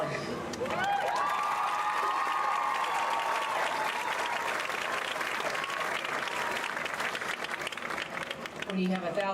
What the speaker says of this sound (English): So you guys cheer her on.